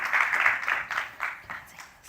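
Audience applause at a youth-in-film launch event, a moderate, steady patter of clapping that swells and fades in waves over a couple of seconds, heard from a slight distance in a hall.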